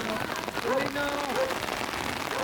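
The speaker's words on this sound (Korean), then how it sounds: "언덕에서 내려오자마자 비가 쏟아지기 시작했습니다" Heavy rain pours down outdoors in Mongolia during a summer visit, a steady broadband hiss with no break, while faint voices murmur underneath.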